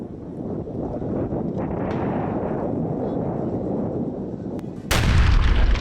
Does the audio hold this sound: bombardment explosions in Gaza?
yes